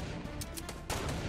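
Gunshots in the video game Fortnite: a few quick, faint bursts of gunfire over steady background noise, with a slightly stronger shot near the end.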